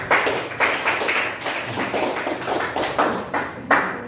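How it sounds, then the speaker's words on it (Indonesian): Group of people clapping hands together indoors, bursts of loose, uneven applause rising and falling in short waves, fairly close and loud. "tepuk tangan untuk kita semua"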